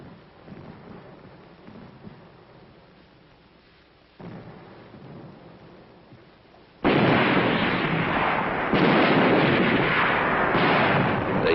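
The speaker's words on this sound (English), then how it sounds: "They'd turn a few tanks into a regular artillery battery." Tanks used as an artillery battery during the Korean War fire in a muffled, lo-fi archival recording. Faint distant booms come first, then a sudden loud, sustained roar of blasts and rumble takes over. No speech is heard.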